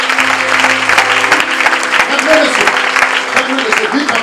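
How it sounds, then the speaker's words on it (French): A church congregation claps and cheers during a French-language worship service, dense steady applause filling the room, with a few voices calling out over the clapping. "Donnons une bonne acclamation."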